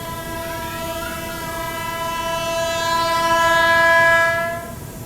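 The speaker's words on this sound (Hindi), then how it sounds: "यहाँ पर एक और लोकल ट्रेन को ओवरटेक मार के जा रहे हैं हम लोग।" A train horn blares in a long sustained tone over the steady rumble of rail cars as an Indian express train overtakes a local train, swelling louder before fading near the end.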